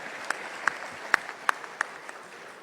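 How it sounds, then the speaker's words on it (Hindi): A gathered audience applauds at an industry event, giving a fairly quiet spatter of handclaps. A handful of sharper individual claps stand out at irregular half-second intervals. "जोरदार ताली बजा आपने।"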